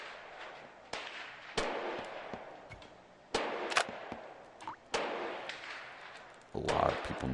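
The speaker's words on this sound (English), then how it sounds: "Mark 23. A lot of people know this gun." Mark 23 pistol shots in Gun Club VR ring out as sharp, separate reports spaced a second or more apart, loud and close, with someone talking between them.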